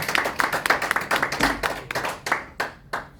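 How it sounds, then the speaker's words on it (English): A small audience at a site management training session claps briefly, with separate, distinct claps that thin out and scatter to a few last strikes. "I think a round of applause for that"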